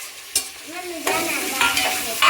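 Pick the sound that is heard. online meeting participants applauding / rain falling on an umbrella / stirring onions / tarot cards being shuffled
stirring onions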